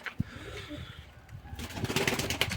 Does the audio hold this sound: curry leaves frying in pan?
no